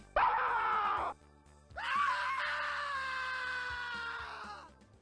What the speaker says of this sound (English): it's the same scream used in Doom when you die and end up with less than minus 50 HP